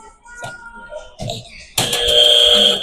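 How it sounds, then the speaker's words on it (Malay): A harsh electronic quiz buzzer cuts in abruptly and keeps sounding loudly after a few moments of quiet classroom talking. "Iraj, nak jawab dengan buzzer?"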